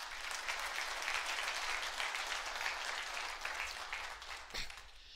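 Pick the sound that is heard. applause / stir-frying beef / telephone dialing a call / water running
applause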